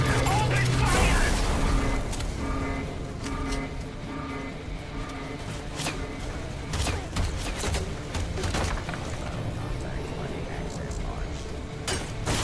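Sci-fi gunfire in the video game Raiders of the Broken Planet, rapid bursts and sharp shots crackling over mechanical clanks and impacts, dense and continuous, mixed with game voices.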